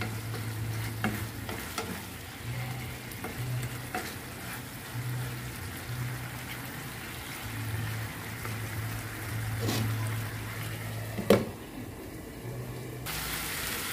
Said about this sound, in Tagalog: Kakaramelize muna natin yung asukal natin dyan before natin lagyan ng